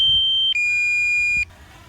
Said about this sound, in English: I wish DJI would do something about that beeping